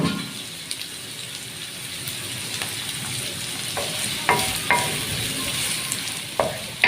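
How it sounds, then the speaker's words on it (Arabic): Peppers and onions sizzling in a hot pan, a constant close frying hiss with occasional light clicks and scrapes of a utensil. "نزل الفلفل الاول وبعدين البصل عليه كده بيديله طعم احسن."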